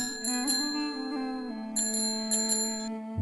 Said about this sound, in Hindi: घंटी की आवाज आई